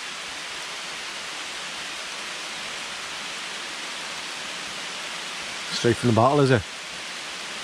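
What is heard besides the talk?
rain falling in the woods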